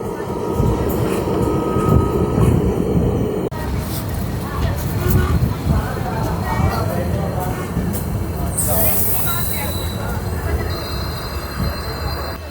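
The Hool Express from Howrah to Siuri rolls along with a continuous loud rumble of wheels on rail, steady clatter and a brief high squeal, heard from inside the carriage with voices talking throughout.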